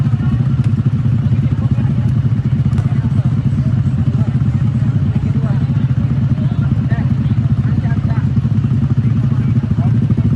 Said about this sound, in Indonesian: motor yang tengah dalam antrian, silakan untuk mematikan mesin kendaraannya